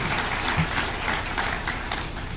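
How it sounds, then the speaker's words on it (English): Audience applause at a state music festival concert in Eldoret, a dense, steady wash of many hands clapping from a large crowd, continuous and fairly even throughout. "I still want to ask all of us to give them a round of applause."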